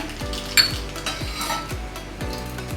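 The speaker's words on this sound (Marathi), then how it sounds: "तेल गरम झालंय राई टाकून घेते याच्यामध्ये" Mustard seeds drop into hot oil in a pan and sizzle steadily, with a spoon stirring in a repeated scraping rhythm and a brief metallic clink, close and fairly quiet.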